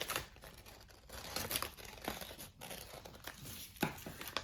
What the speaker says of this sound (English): I'm going to go ahead and cut out the heart.